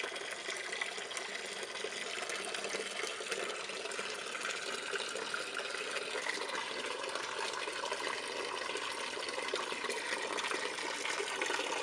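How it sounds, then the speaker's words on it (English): A pump for a Halloween prop pushing a strong stream of water, heard as a steady, even gushing and splashing rush with no pauses and no talking. "We actually get a pretty good flow of water out of this thing."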